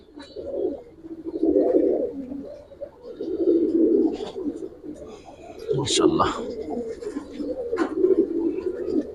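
Released pigeons, colouring and Giribaz breeds, coo in soft repeated bursts close by, with a few sharper sounds and people talking in between.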